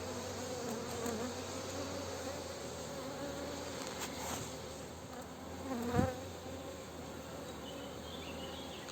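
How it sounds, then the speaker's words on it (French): Honey bees hum in a dense, steady drone around a busy hive, with a few louder passing buzzes close by over the continuous background. "On voit que les abeilles sont bien populeuses"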